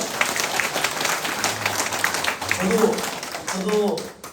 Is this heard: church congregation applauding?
yes